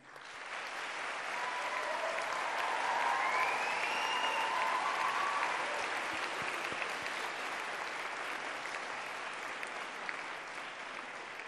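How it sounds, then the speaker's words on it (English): A large graduation ceremony audience gives a long, sustained round of applause, swelling early and holding steady, with a faint whistle or cheer rising above the clapping. "please join me in a round of applause to thank all of those who have helped you along the way"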